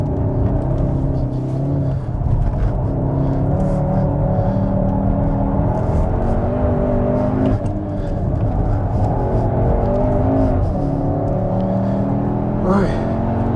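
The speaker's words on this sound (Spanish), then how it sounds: "¿Veis cómo cambia de marcha el solo?" A 2023 Volkswagen Tiguan R sport SUV accelerates with its automatic gearbox shifting on its own, a loud steady engine drone and road rumble heard from inside the cabin, with a brief dip around a gear change.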